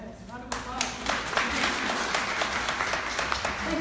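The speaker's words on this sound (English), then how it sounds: "Yes, round of applause." Audience applause breaks out suddenly at a blogging pop-up event in Atlanta. The clapping is close and dense and holds steady for a few seconds.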